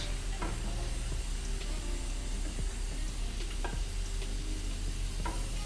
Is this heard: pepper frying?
yes